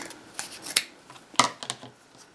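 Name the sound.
cutting denim fabric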